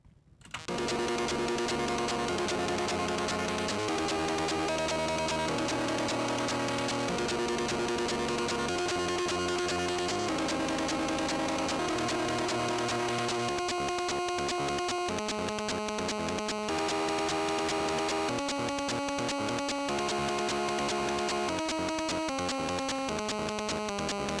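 A Commodore PET plays a buzzy square-wave chiptune melody continuously, bright harsh electronic tones stepping through a fast tune, no voices.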